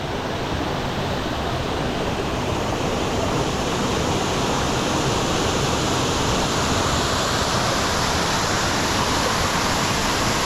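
A waterfall on a brook trout stream pours in a constant, loud, full-bodied roar that stays even and unbroken throughout, close by and with no voices heard.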